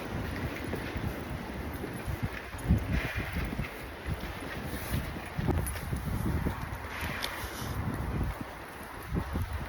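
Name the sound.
cold wind blowing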